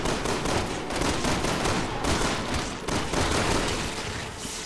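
Rapid gunfire from the video game Resident Evil 6 comes in loud, dense bursts of repeated shots with brief gaps between volleys, close and heavy with no talk over it.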